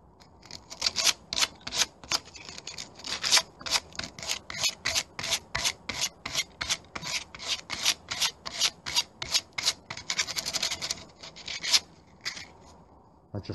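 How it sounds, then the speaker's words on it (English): Hand sanding of loose paint from exterior wooden spindles and posts, a steady series of short rasping strokes, about two per second, close and clear, with no talk. "So take that loose paint back. Same as this patch here."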